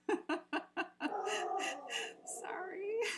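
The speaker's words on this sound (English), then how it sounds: "you guys get to experience my dog reacting to it" A pet dog reacts to a town siren with a run of short yips followed by drawn-out whining and howl-like whimpers, close by in an indoor room, with no talking.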